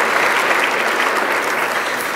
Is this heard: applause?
yes